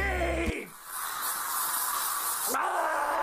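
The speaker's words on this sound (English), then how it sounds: "did he just spray paint his fucking face?" A spray can hisses in a long continuous burst lasting about two seconds, loud and close.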